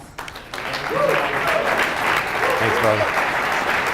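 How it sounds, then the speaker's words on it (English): An audience applauds warmly, a dense continuous clapping that builds quickly and holds steady, with someone speaking briefly over it. "with a warm round of applause"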